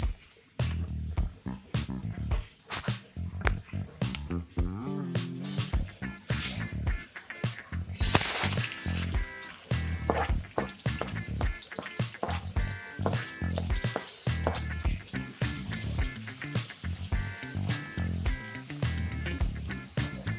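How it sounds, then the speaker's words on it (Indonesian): Sliced onion sizzles and crackles in hot oil in a pan, stirred now and then, as the base for Sundanese beef rendang, steady close frying noise with bursts of clatter and a louder sizzle surge midway. "Kita tumis bawang bombaynya, ibu, sampai harum."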